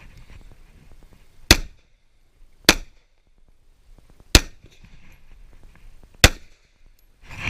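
Pistol shots ring out at an IDPA match at the Mecklenburg Wildlife Club, four sharp, loud, separate reports spaced a second or two apart, each with a short echo, over quiet outdoor background.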